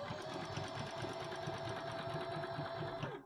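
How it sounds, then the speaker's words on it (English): A sewing machine runs steadily, zigzag stitching main fabric to wadding for a bunny pouch, a fast continuous mechanical whirr with rapid even needle clatter throughout, close and alone. "I'm just going to zigzag the main fabric to the wadding at the same time"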